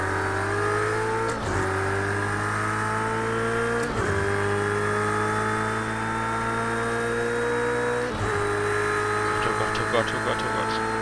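A Ferrari race car engine from the racing game Project CARS 2 drones loudly and continuously, climbing through the revs with three sharp gear changes, while a voice talks over it.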